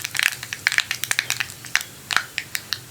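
Mustard seeds popping in hot coconut oil, a quick irregular run of sharp crackles and pops, close and fairly loud with no voices.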